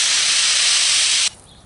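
A can of foaming wasp spray fires a loud, close, continuous hiss for over a second, then cuts off abruptly, leaving quieter background.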